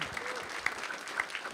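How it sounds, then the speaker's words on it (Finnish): Short burst of audience applause at a cybersecurity event in Finland, many hands clapping in a dense steady patter with a few sharper individual claps standing out, brief and fairly close. "Eikä ihan pikku aplodit meidän sponsoreille tässä"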